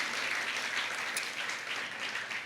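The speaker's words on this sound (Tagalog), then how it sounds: "Ibalik nga po natin sa atin pong Panginoon ang pinakamalakas na palakpak." A congregation at a morning worship service gives a short burst of applause, many hands clapping in a steady, fairly soft wash heard from some distance.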